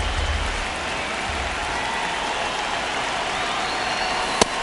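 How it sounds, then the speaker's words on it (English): Rain pouring steadily over a baseball stadium during a Red Sox versus Yankees game in MLB The Show on PS5, a dense continuous hiss with one brief click near the end. "This rain is not letting up."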